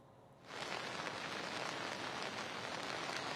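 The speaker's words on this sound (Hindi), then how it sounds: "बहुत तेज बारिश शुरू हो गई है और इस वक्त हम बारिश में ही मौजूद हैं" Heavy rain from a cloudburst in Uttarkashi swells in about half a second after a quieter start, then pours as a dense, steady roar on surfaces close by, with no talking.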